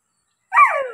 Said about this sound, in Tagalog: Ayan, ito yung mga alagang aso.